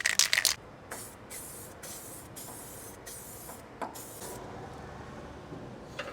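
An aerosol can sprays weld-through primer onto car parts in a run of short hissing bursts, close and fairly loud, separated by brief gaps, the first burst the strongest.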